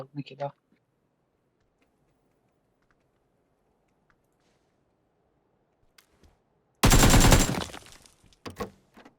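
A loud burst of rapid gunfire from a battle royale video game on the Erangel map erupts near the end, preceded by a brief earlier shot sound, with quiet background otherwise and no talking.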